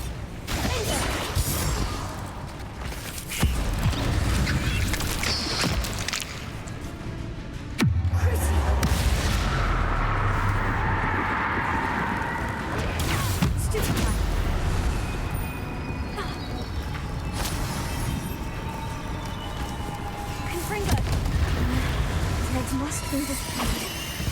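Confringo spell blasts in Hogwarts Legacy, repeated booming explosions and crashes with combat clatter across a long stretch of fighting, loud and close, while a player keeps talking over them.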